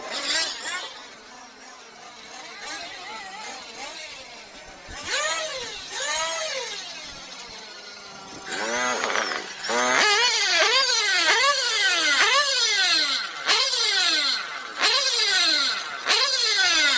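A Tekno NT48.3 nitro RC car engine idles with a buzzy rattle and then fires off repeated sharp revving bursts, rising and falling whines that come faster and louder toward the end.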